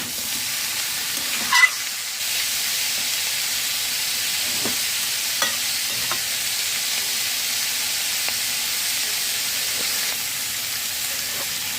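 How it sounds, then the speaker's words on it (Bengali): Mushroom, potato and broccoli fry lightly in a pan with a steady, soft sizzle and hiss, while occasional scrapes from stirring break in. No one speaks. "এই রেসিপি বেশি ভাজা হবে না, হালকা ভেজে নিতে হবে।"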